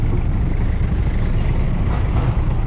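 A truck rumbles in slow traffic at road works near Arayat, Pampanga: a steady, close, low engine and roadway drone that continues with no break and no voices.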